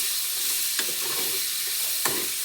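Coconut and sprouted horse gram masala frying in a pan, a soft steady sizzle with two brief scraping knocks of a spatula, no voices.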